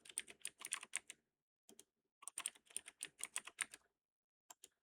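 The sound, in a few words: typing a password on a computer keyboard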